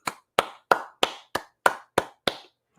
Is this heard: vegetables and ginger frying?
no